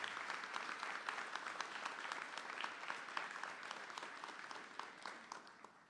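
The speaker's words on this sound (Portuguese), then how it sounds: "Uma salva de palmas para todos esses ministérios." Steady audience applause fills a church anniversary celebration at a Baptist church honoring its pastor of 50 years, a fairly distant, continuous patter of many hands that thins slightly toward the end.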